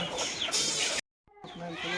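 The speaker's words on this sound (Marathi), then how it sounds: "तिकडून कोंबड्या बाहेर निघणार" Hens being let out of a shed on a farm, clucking and squawking close by in a busy jumble, broken by a brief silence in the middle before the calls resume.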